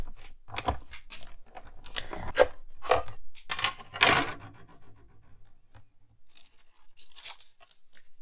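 Scissors snipping a piece of white paper for a handmade card, a series of close crisp cuts in irregular bursts that trail off into quieter rustling near the end, with no talking.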